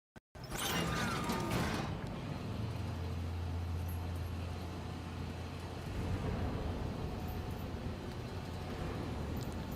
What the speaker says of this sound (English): Oh, elevator.